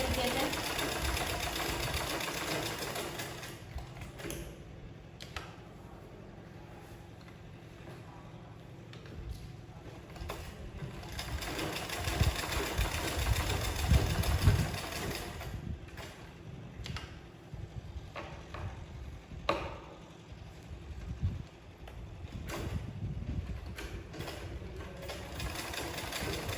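A sewing machine stitches a keyhole strip on a suit, its motor whirring in intermittent runs with a ticking mechanical rhythm, fairly close but modest in volume, with a voice speaking at times.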